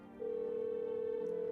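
Telephone ringing in a horror video game, a single steady electronic ring tone that starts abruptly and holds evenly, fairly faint and with no talk.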